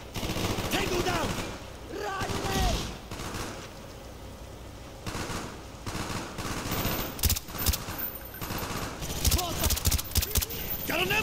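Rapid machine gun bursts and gunfire ring out in a Call of Duty Black Ops battle, near and loud, with shouted voices between the volleys.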